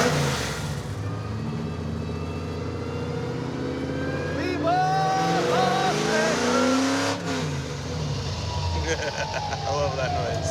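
A car engine runs and revs up and down with a raspy mechanical drone throughout, people talking over it.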